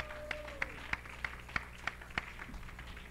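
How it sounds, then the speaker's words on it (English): A church congregation claps hands together in a steady, evenly spaced rhythm, about three claps per second. The claps are soft and somewhat distant over a low, quiet background hum. "Clap your hands unto the Lord."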